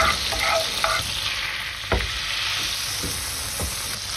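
Butter sauce for saltimbocca reducing in a pan on low heat, a steady close sizzle with occasional soft scraping stirs and taps of a utensil.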